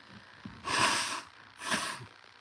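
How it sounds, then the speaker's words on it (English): Two forceful nose blows, each a rushing burst of air about half a second long, close to the microphone with a short pause between. "Man, I need to blow my nose."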